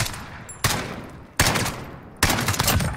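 Gunfire in Call of Duty Modern Warfare's Gunfight mode: three loud, separate shots spaced under a second apart, each with a sharp crack and a decaying tail, over a faint background hum.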